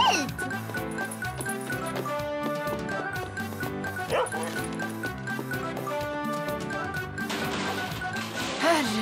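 A dog tugging at a woman's shawl, with repeated barks and yips and whimpering amid a clatter, all heard over music, and a voice rises briefly near the end.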